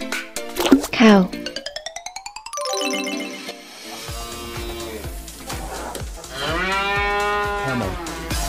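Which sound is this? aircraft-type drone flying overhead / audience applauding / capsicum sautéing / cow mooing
cow mooing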